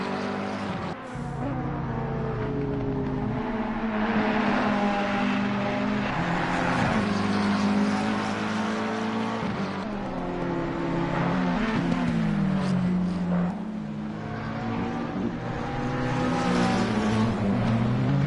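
Race car engine droning steadily through qualifying laps at Brands Hatch, its pitch rising and falling with gear changes and revs as cars pass close by, loud and continuous with no talk.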